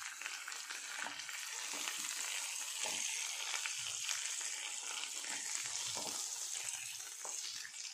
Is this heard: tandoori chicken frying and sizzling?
yes